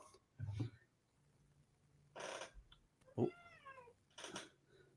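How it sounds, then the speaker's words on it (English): A cat meows a few times, faint and somewhat distant, short plaintive calls spaced apart in an otherwise quiet room. "Heard the cat in the background."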